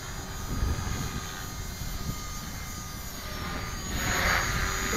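An Align LH-450 radio-controlled helicopter whines steadily overhead while doing flips outdoors in wind, its rotor and motor pitch swelling near the end.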